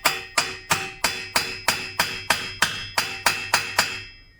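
A hammer strikes a custom two-stroke exhaust pipe being fitted to a McCulloch BP1 chainsaw, thirteen sharp, ringing metallic blows at a steady, even rhythm, each decaying quickly, loud and close with no talking.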